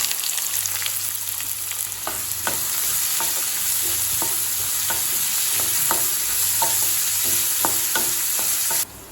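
Onions sizzle and crackle in hot oil in a kadai with cinnamon and fennel seeds while being stirred, with steady frying hiss and repeated sharp scraping clicks of the spoon against the pan.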